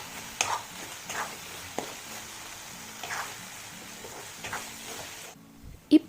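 Spicy macaroni pasta in tomato masala sauce is stirred in a pan with a spoon, soft sizzling and intermittent scraping strokes, close and moderate, ending in a couple of sharper knocks.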